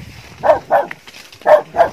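A dog barks four times, close by, in two quick pairs separated by a short pause.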